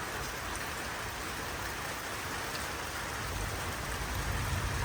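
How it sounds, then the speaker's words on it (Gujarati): Gentle, steady monsoon rain falls continuously in a soft, even hiss on a calm, windless day, with no voices and only a slight swell toward the end. "એકદમ શાંત વાતાવરણ અને એકદમ સરસ ધીમી ધારે વરસાદ"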